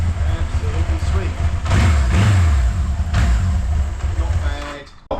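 A restored forty-year-old Kawasaki Z1000 motorcycle engine runs steadily with a low rumble that swells briefly as it is revved, then cuts out near the end.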